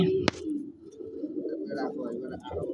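A Tamra pigeon coos in low rolling throaty notes, close by, after a sharp click at the start.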